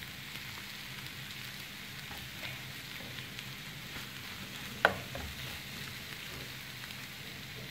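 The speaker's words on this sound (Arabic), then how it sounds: "دابا غادي نضيف الزيتون" Olives stirred into a sizzling, browned filling mixture for fish pastilla; a steady, fairly quiet fry hiss runs throughout, with one sharp clink near the end.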